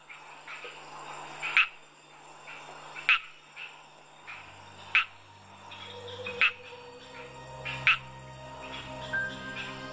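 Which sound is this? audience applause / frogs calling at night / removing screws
frogs calling at night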